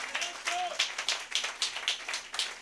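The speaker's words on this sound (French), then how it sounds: "Donnez une main d'acclamation au Seigneur" Church congregation clapping in praise during a French-language Christian exhortation, a steady run of sharp hand claps across the whole stretch with a brief voice tone early on.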